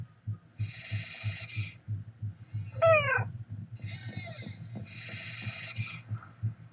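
A cat meowing, with several drawn-out cries breaking through a mechanical, rhythmic thumping background; no speech.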